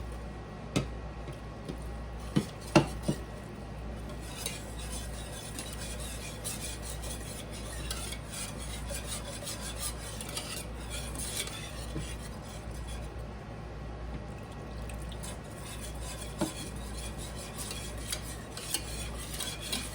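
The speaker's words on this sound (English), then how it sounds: "keep adding a little bit at a time and whisk it in between constantly" Milk being whisked a little at a time into a pan, heard as a quiet, continuous metallic scraping and stirring with occasional sharper clicks of the whisk against the pan.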